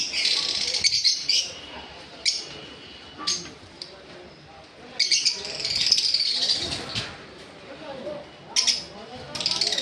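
Fischer's lovebirds give sharp high-pitched chirps in short bursts, repeated throughout, with busy background noise and some talking beneath.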